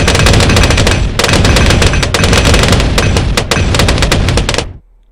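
A tower in the video game Bloons TD 5 fires in a rapid, dense stream of loud gunfire-like shots. The shots continue nearly unbroken for about five seconds, then cut off abruptly.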